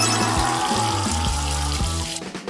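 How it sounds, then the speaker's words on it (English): Water running from a kitchen faucet, a steady splashing flow with a pulsing tonal rhythm over it, fairly loud and close, ending abruptly. "just run it under the faucet"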